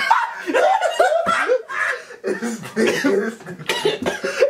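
Someone coughs in repeated bursts close up, with laughter and chatter mixed in between the coughs.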